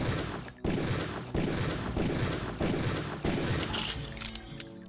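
Dense video game gunfire in Deus Ex, loud, continuous bursts of shots with short gaps between volleys, close and steady with a brief clattering tail near the end.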